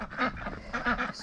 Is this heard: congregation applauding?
no